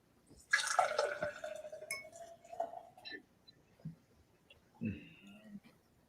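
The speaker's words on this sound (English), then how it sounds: "All right, let's pour this up." IPA beer poured from a can or bottle into a glass, a clinking start followed by a few seconds of liquid splashing and filling, with brief quiet drips and small clinks near the end.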